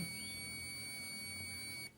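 A multimeter's continuity beep sounds while probing an Airtel satellite receiver board with a short fault: one steady, high electronic tone that holds for about two seconds and then cuts off.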